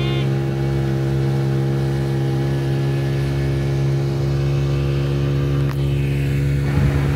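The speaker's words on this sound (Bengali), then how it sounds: "মহেশখালীকে বিদায় জানিয়ে এখন আমরা স্পিড বোটে উঠে গিয়েছি।" A speedboat engine drones steadily and loudly on high tide water after leaving Maheshkhali, its deep hum holding constant with a brief knock near the end.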